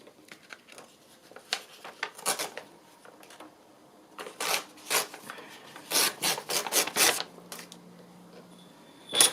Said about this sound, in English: I'm just going to tear this extra bit off